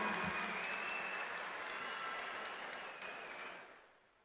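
Women at a public event for the Chief Minister applaud together in a dense, sustained burst of clapping that gradually fades away toward the end.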